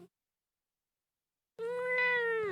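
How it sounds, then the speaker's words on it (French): A small cat gives a single clear, drawn-out meow that lasts about a second, close to the microphone and loud after a stretch of near silence. "Oh oui, t'as miaulé."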